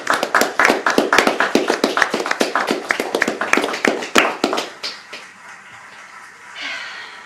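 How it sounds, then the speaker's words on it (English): Applause at a space mission event: a small group clapping close and crisp, a fast rapid patter that fades away after about five seconds into quiet room noise. "I guess it's worth a round of applause"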